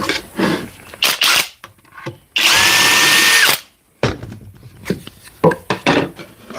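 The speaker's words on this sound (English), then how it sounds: "I need to drill the top hole." A power drill bores the top hole in a wooden drawer cabinet during a carpentry build: a loud, steady whine of about a second, framed by clunks and handling knocks of wood before and after.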